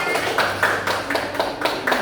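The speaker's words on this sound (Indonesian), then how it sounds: "Tepuk tangan untuk temannya" Classroom of third-grade children clapping for a classmate, a dense run of quick hand claps rising and falling in short bursts throughout, fairly close and steady.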